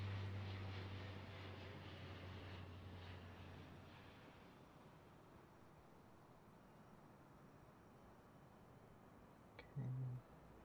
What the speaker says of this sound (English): There's another plane rolling in.